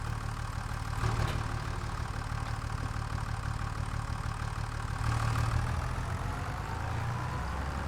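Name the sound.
old John Deere tractor engine idling, Farming Simulator 25 video game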